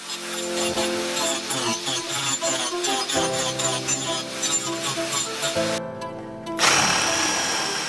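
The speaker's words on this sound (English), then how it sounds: "I'm going to round the top edges" Power tool rounding over the top edges of wooden planks for a homemade bike rack, a steady high-pitched machine whine with a rhythmic chattering texture running loud and continuous, briefly dropping out near the end before resuming.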